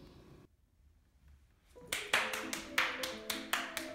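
Ill-timed clapping breaks out during a performance, several sharp, fairly loud claps spaced irregularly over sustained instrumental tones after a brief quiet pause.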